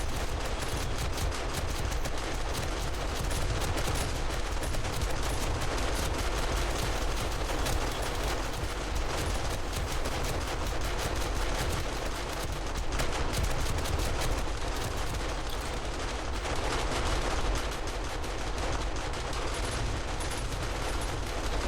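Sustained automated turret gunfire in 7 Days to Die, a dense continuous crackle of rapid shots running steadily throughout at moderate loudness, with no talking.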